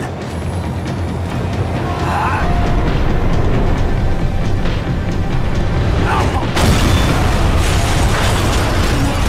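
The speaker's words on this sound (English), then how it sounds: "The tram was slowing down, and I'd only just gotten on board." A tram slowing down in the video game Max Payne 3: a loud, continuous rumble of rolling wheels and machinery with metallic bursts and clanks, persisting throughout at close range.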